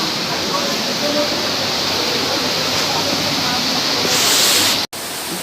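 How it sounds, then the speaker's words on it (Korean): Waterfall at Mimbalot Falls in Iligan, Philippines: a loud, steady roar of falling water that holds throughout with no break. "지금 폭포를 왔어요. 폭포."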